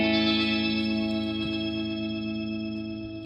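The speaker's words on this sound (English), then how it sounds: "That kind of shimmering chorus effect is really, really pronounced coming through this amp." A guitar pedal set to its hall mode plays through an amp, giving a loud, sustained, shimmering chorus wash of layered tones that fades slowly, with no talking.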